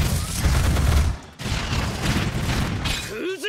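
Missile launch in the One Punch Man Road to Hero mobile game: a dense, loud rushing roar of launches and blasts with a short dip midway, ending as a voice speaks.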